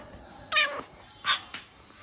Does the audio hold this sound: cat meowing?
yes